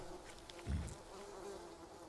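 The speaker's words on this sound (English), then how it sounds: "Oh my god, more bees?" Bees buzzing in the Green Hell jungle survival game, a faint steady insect drone with one brief louder pass, no talk.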